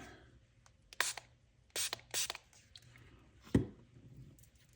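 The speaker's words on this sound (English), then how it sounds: "So now if I spray it with water" A few quick hissing bursts from a water spray bottle onto paint, two or three in close succession, followed by a short scraping rub, with quiet room tone in between.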